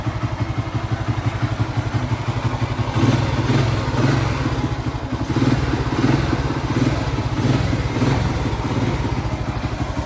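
A Honda Astrea Star motorcycle engine runs steadily with a rapid, throbbing idle, rising in a couple of brief revs, loud and close with no voices.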